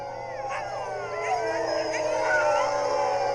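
Greenland dogs in a small Arctic town in northern Norway howl together in a sustained chorus of overlapping, wavering cries, rising and falling in pitch, growing louder toward the end with no talk.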